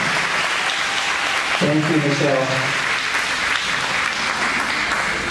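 Loud, steady audience applause fills a motivational speaking event, continuous clapping and cheering from a crowd while someone briefly speaks over it.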